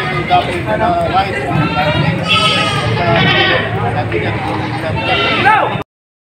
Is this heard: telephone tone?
no